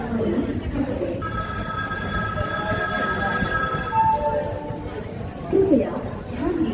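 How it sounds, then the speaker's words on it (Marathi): Tirupati special express train of ICF coaches pulling out of Pandharpur railway station, rumbling steadily and close, with squealing wheel tones held across the middle of the clip and a platform announcement voice running over it. "तिरुपती स्पेशल एक्सप्रेस निघालेली आहे पंढरपूर रेल्वे स्टेशनवरून"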